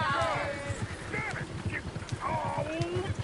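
Horse hooves clip-clopping at a steady trot in Red Dead Redemption 2, close and rhythmic beneath a voice and a whinnying call.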